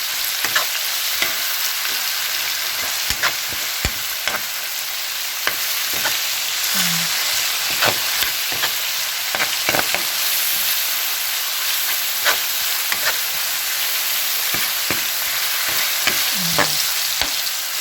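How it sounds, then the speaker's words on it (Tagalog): Onions sauté in a frying pan with a loud, continuous crackling sizzle, broken by frequent scrapes and taps of a stirring utensil against the pan. "So, ihulog natin yung sibuyas. Gisa-gisa lang ulit."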